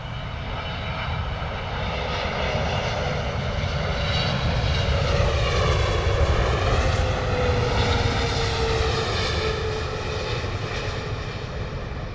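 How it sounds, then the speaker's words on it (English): A Boeing 777 in American Airlines service, arriving from Miami, lands at London Heathrow with a loud, steady jet engine roar that holds throughout, its pitch sweeping slowly as the airliner passes close by. "Here we go, coming in. American Airlines, Boeing 777 coming in from Miami."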